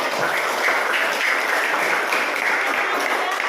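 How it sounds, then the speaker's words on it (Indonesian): Steady applause from a classroom group, dense even clapping that fills the whole stretch without a break. "kasih tepuk tangan ke kelompok 1 ya"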